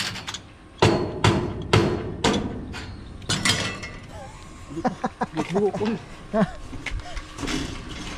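Several sharp hammer blows ring out on a house construction site, spaced about half a second apart, followed by people talking in Tagalog alongside a few softer knocks.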